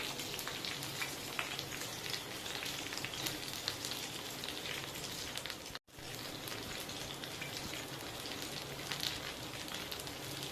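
Fish curry gravy with curry leaves and ground spice paste bubbling steadily in a pot on the stove, a dense continuous simmering crackle with one brief dropout midway.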